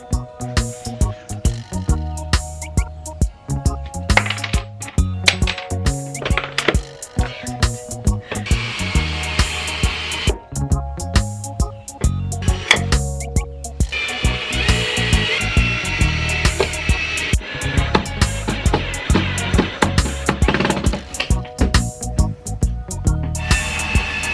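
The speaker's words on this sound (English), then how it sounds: "I drill some screws into the floor" Bursts of a power drill whirring in short runs, driving screws into a van floor to fit a pull-out couch, with clattering and knocking between them, close by.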